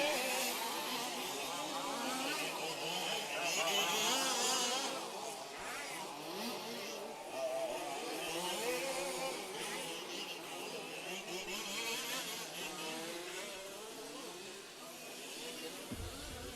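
Large-scale 2WD off-road RC cars race at a European Championship, their small engines giving a continuous buzzing whine that rises and falls under steady commentary talk.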